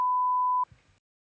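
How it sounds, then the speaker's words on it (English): A steady pure censor beep tone runs loud and unbroken for about half a second, then cuts off abruptly, leaving faint low room noise. "so we'll get that beeped out"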